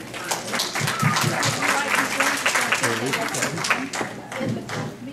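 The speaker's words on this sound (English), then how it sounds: "So please give them a big round of applause, please." A crowd applauds with dense, sustained clapping that fills the room, while a voice speaks over it.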